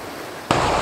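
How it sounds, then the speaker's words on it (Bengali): The strong current of the flooded Dulung river in Jhargram after days of rain rushes as dense, steady noise that jumps abruptly louder midway through the short stretch. "এই মুহূর্তে আমি যেখানে আছি ডুলুং নদীর উপর প্রচন্ড স্রোত বয়ে চলেছে।"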